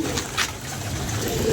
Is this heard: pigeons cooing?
yes